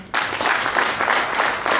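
A short burst of applause from guests at a traditional wedding, starting abruptly and continuing as brisk, steady clapping close by.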